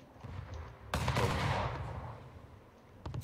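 Naval cannon fire from ships in an Anno 1800 sea battle: a sudden loud booming burst that rolls and fades over about a second, followed later by a couple of sharper distant reports.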